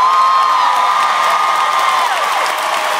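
An audience at a concert applauds and cheers loudly and steadily, with whoops and shouts rising over dense, continuous crowd noise.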